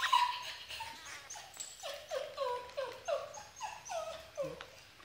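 Young black-winged kites beg while being hand-fed, giving a rhythmic series of thin, high, descending chirps and whines, fairly close and alone.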